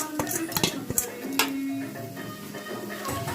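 A spoon stirs fried pork and coconut pieces in a pan, giving a few sharp metallic clinks and scrapes at uneven intervals, followed by a softer, quieter stretch.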